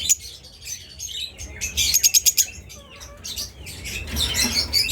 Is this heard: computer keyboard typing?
no